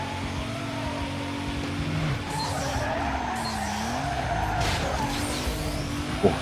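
Tires squeal in a long, continuous skid as a car drifts in Need for Speed Most Wanted. The engine drones steadily underneath, with a short bump near the end.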